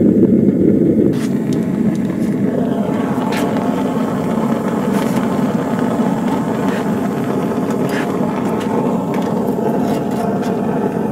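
A gas burner roars steadily as it heats a metal-melting furnace and settles back toward idle, a loud continuous rumbling whoosh with a faint hiss on top and no pauses.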